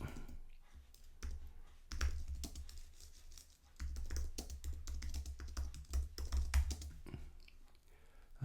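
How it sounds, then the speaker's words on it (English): Typing on a computer keyboard, a quiet close run of irregular clicking keystrokes with brief pauses, and no voices. "So looking at lesson objectives, so let's type in here."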